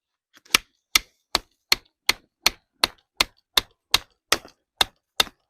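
An Axarquia knife is struck repeatedly with a light piece of green wood to drive it through a cut, thirteen sharp, evenly spaced knocks, loud and close with silence between them.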